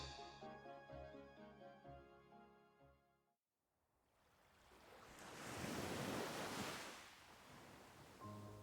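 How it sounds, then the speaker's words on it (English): Ocean waves in a Kingdom Hearts sleep story wash in with a rising, hissing surge that swells and slowly recedes, following a brief stretch of music that fades out. "The gentle sound of cascading waves"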